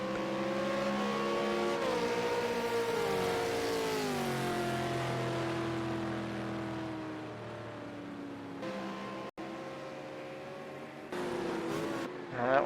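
Racing car engines drone steadily on track at Bathurst Mount Panorama in a V8 Supercars video game, a loud sustained multi-harmonic note falling in pitch as the cars slow, then rising again as revs pick up near the end.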